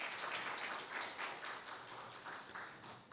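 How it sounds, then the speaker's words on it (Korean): Audience members at a university presidential candidates' joint speech event clap for the candidates, a lively patter of many hands that swells early and then gradually thins and fades. "후보자들님께 큰 박수를 부탁드리겠습니다."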